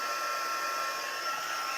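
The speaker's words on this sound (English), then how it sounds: "Now I have to use my embossing gun." An embossing heat gun on its high setting blows with a steady, high whirring hiss, constant and close, with no talking.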